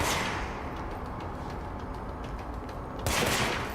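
Gunfire in the video game Control as enemies shoot back, a dense continuous fusillade of shots throughout, swelling louder near the end.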